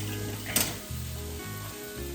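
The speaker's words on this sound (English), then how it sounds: "I'm going to add a couple of teaspoons of minced garlic." Minced garlic, a couple of teaspoons, sizzles in a pan with softened ingredients for a Mexican enchilada casserole. The frying hiss is steady and close, broken once by a brief stir or scrape.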